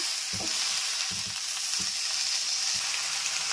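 Brinjals sizzling as they fry in hot tempering oil with asafoetida, a steady bright hiss throughout with a few soft low stirring knocks near the start.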